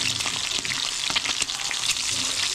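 An egg frying in a pan with toasted edges, a loud, continuous close sizzle with dense popping and crackling, heard alone.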